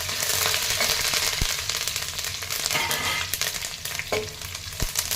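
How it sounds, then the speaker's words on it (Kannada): Garlic for chitranna fries hard over a raised flame, a loud, steady sizzle with crackles and a few sharp taps of the spoon against the pan, up close and without speech. "ಸ್ವಲ್ಪ ನೋಡಿ ಈ ಥರ ಚೆನ್ನಾಗಿ ಫ್ರೈ ಆದಮೇಲೆ ಅದಕ್ಕೆ ಕರ್ಬೇವಿನ ಸೊಪ್ಪು ಹಾಕಿ"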